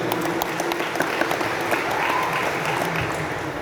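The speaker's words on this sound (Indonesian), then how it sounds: "Tepuk tangan untuk beliau." Audience applause honoring a religious figure at an Indonesian gathering, steady dense clapping from a crowd filling the room without a break.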